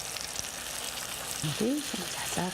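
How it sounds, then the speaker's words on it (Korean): Steady oily sizzling of tofu frying in perilla oil in a pan, continuous and close, with a few faint tonal chirps near the end. "소뚜껑에 들기름을 두르고 두부를 지져 먹던 두부 지짐이를 만들어 보는데요"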